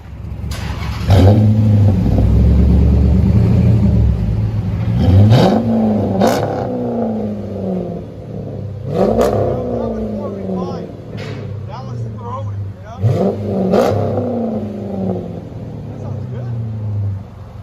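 Chrysler 300 with a 5.7L HEMI V8 and aftermarket exhaust, revved repeatedly: four or five sharp throttle blips rising to a roar and falling back to a deep rumbling idle, loud and close.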